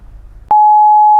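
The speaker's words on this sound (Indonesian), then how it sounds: "Ini kan di bip." A steady pure censor bleep tone at about 1 kHz cuts in sharply after a half second of faint low murmur and holds loud and unbroken to the end.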